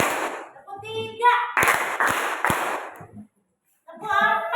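Children in an elementary classroom clap in unison during a counting clap game, three sharp group claps spaced about half a second apart, with an adult voice calling out between them and a brief pause.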